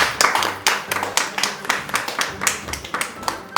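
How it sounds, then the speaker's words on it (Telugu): Audience applause at a children's Earth Day drawing competition prize event, a steady run of many hands clapping in quick irregular bursts, fairly close and continuous for a few seconds with faint voices beneath. "అందరూ క్లాప్స్ కొట్టండి"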